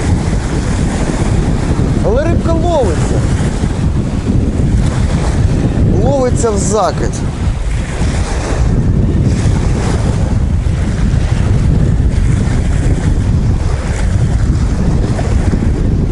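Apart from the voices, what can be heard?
strong wind by river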